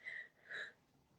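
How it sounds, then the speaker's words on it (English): Someone sneezes in two quick, breathy bursts, quiet and close. "that was a dramatic sneeze on live TV"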